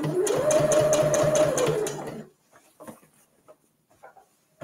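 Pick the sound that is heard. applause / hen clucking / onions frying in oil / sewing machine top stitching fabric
sewing machine top stitching fabric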